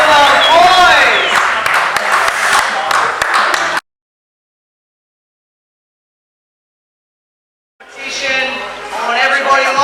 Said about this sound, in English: Give it up for those boys!